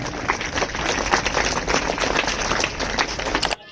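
An audience applauds as a speaker is introduced at a talk, a continuous even roar of many hands clapping that stops abruptly near the end.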